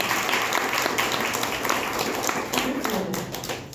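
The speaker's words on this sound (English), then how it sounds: "Yeah, that's a clap right there." A dense burst of clapping and cheering from a roller derby crowd in Vancouver's Downtown East Side, loud and close, sustained as a continuous noisy roar for several seconds.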